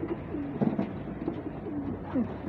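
Several racing pigeons coo softly nearby, low throaty calls repeating irregularly over a quiet background.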